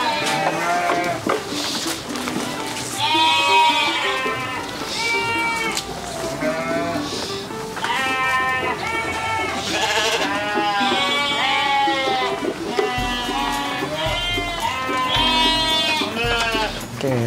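Sheep and goats, including Garut sheep, local and crossbred animals, bleat repeatedly in a loose breeding pen on a farm, with overlapping calls from several animals at close to mid range and a steady background din.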